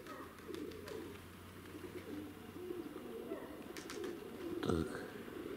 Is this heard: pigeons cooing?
yes